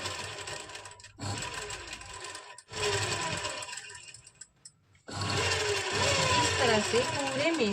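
A sewing machine runs long big stitches through lining fabric for a kameez, three close bursts of steady motor whirring separated by brief pauses and clicks, loud and near.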